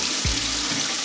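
Water running off salt fish as it drains into a sink, a short tap-like gush and trickle close by, with a brief low splash early on and no voices.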